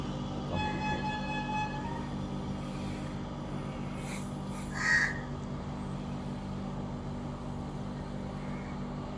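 Crows caw outdoors, with one clear call standing out midway over a steady low hum and faint background noise.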